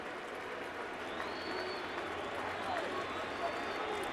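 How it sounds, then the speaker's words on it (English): Stadium crowd at a Yankees playoff baseball game chanting a player's name, a dense sustained roar of many voices in a large open ballpark, with announcers talking over it. "Crowd chanting Boone, trying to get Boone Logan through this 4th inning"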